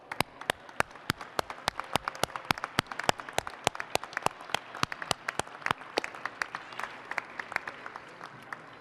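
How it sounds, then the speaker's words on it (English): Applause from a small gathering at the 2018 NAIAS Charity Preview opening, with sharp, evenly spaced claps from a nearby clapper standing out over a softer, steady patter from the room. "we'll give you a round of applause"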